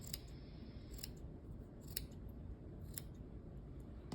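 Scissors trimming crochet yarn ends on a tissue box cover, a few quiet, sharp snips spaced about a second apart over a soft steady background hiss.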